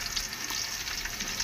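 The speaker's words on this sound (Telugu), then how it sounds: "ఉల్లిపాయ పచ్చిమిరపకాయ వేసుకుంటున్నా" Chopped onion and green chilies fry in hot oil, giving a steady, close sizzling hiss with no talking, while chicken Maggi noodles are being prepared.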